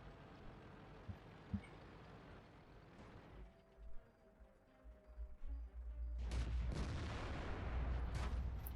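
A heavy SU-152 cannon blast booms out in a tank video game, followed by rumbling engine noise and mechanical clatter, loud and close.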